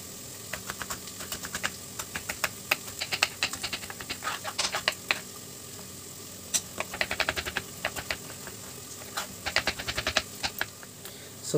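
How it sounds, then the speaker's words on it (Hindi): Green chillies and tomatoes are finely chopped on a board in rapid knife taps, close and crisp, arriving in quick rhythmic bursts separated by brief pauses, with no talk. "उतनी देर में हम हरी मिर्च और टमाटरों को भी काट लेते हैं बारीक"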